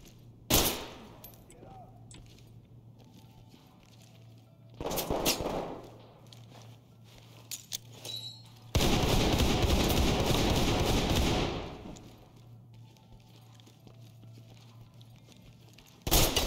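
Rifle fire in the tactical shooter game Ready or Not: a few sharp isolated shots, then a sustained burst of several seconds, with quiet gaps between, under a low hum.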